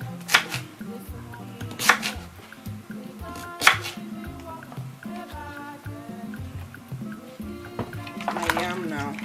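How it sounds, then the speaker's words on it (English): A knife slices through yam at a kitchen counter, making a few sharp cuts followed by wet splashes as the pieces drop into water, heard under background sounds. "So I slice it and put it in my water."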